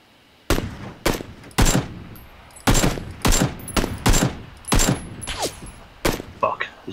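Gunshots in PlayerUnknown's Battlegrounds ring out as about a dozen loud, sharp cracks at irregular intervals, each with a brief echoing tail, over a quiet background.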